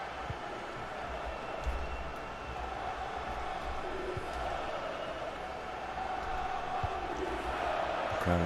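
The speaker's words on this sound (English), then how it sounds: "Crowd are cheering them on." Crowd at a Tottenham vs Manchester United football match, a broad steady roar from the stands heard at a distance, sustained without clear peaks, with a commentator's voice over it.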